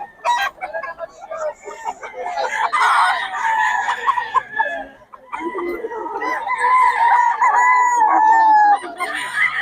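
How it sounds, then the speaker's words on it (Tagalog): A bull stag rooster crows and clucks close by in a busy Filipino cockfighting spot at dawn, with repeated calls and tonal crowing strains running continuously over crowd noise. "Bull stag to mga idol."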